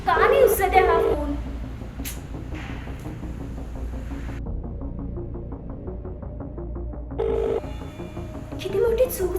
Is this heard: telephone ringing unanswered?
yes